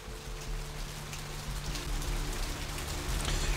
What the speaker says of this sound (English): This rain is the pungent sewage of hell, seeping into the cracks of this putrid purgatory.